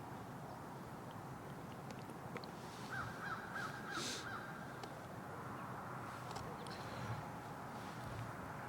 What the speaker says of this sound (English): I got crows that just will not be quiet.